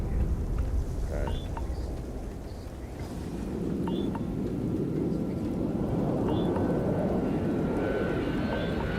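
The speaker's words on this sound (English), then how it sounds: "And it's raining." Steady rain-like hiss and patter with low rumbling underneath, continuous and fairly loud throughout, rain in the video game Starfield.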